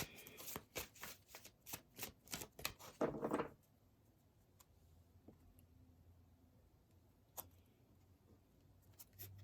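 Oracle cards shuffled by hand during a tarot and oracle reading, a run of quick papery riffles and flicks for about three seconds, then sparse soft card taps in a quiet room.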